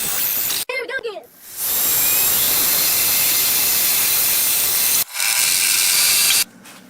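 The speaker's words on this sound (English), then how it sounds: "we're going to drill a 5/8 hole" A power drill cuts a 5/8-inch hole for a U-bolt while replacing leaf springs on a first-generation Camaro, a loud sustained grinding hiss broken by a short pause and a second burst.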